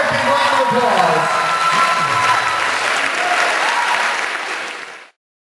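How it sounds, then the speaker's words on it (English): An audience at a hypnosis stage show gives a big round of applause, a dense, loud and steady wash of clapping that holds for about five seconds, then cuts off abruptly. "Let's give them both a big round of applause."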